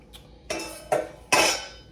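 Cinnamon raisin bagel dough being cut into sections on a work surface: three sharp, clattering knocks about half a second apart, each trailing off briefly, in a quiet kitchen with no talking.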